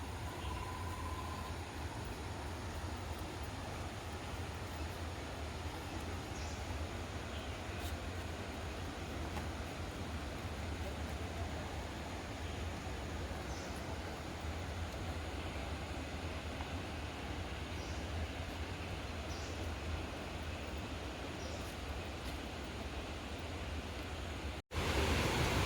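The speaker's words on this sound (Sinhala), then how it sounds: "වතුර පාරේ සද්දේ සත්තුන්ගේ සද්දේ විතරයි." The stream at Bopath Ella waterfall rushes steadily as a dense, even roar of flowing water that continues unbroken throughout, with faint higher sounds above it.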